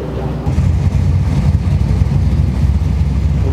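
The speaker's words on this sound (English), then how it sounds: "the only rotor engine of this race. I think it's an 13B in this one." A Mazda 13B rotary engine with four injectors and a BorgWarner turbo and wastegate idles in a race car, a steady, close, heavy low rumble with a slight rise after the first half second.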